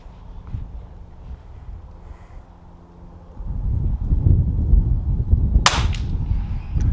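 Rifle shots at an outdoor shooting range in strong wind, with one sharp, loud crack standing out over heavy low wind rumble that builds partway through.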